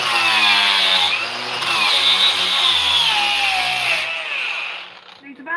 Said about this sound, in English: Or I'll do a bit less aggressively so I do it with the sander.